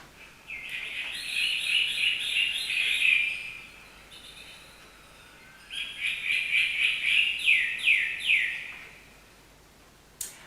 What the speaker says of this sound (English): When one bird cheeps in the hot and humid tropical house